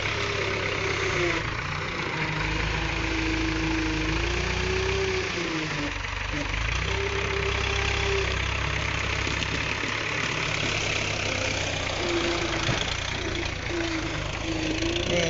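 Heavy log truck carrying seven to eight tons of timber, its engine idling with a steady low knocking rumble throughout as someone speaks over it.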